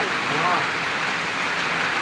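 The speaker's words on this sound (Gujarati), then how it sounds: "આ વરસાદ એમ તમને બતાવી રહ્યા છે" A loud, unbroken roar of heavy rain fills the whole short stretch, steady and close.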